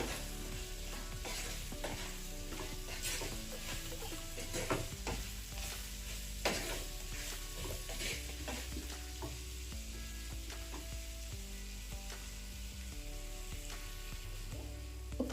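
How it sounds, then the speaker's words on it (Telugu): Green apple pickle mixture is stirred in a pan over a low flame, with a soft sizzle under scattered scrapes and knocks of a spoon against the pan, close and fairly quiet. "ఇదంతా ఒకసారి ఇలా కలిపేసుకొని ఫ్లేమ్ అనేది సిమ్లో ఉండాలి. సిమ్లో ఉంచుకొని కలిపేసుకోవాలి."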